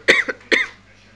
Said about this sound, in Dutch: De hoest is ook weer terug.